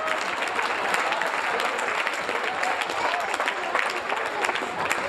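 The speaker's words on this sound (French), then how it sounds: "on applaudit monsieur" Dense, steady audience applause fills a comedy show from start to finish, loud and sustained with no break in the clapping.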